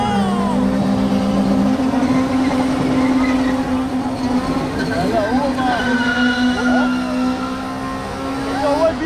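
BMW M racing a GTS down a quarter-mile drag strip at Killarney, heard from inside the car as a loud, sustained engine drone that holds steady and then climbs through gear changes.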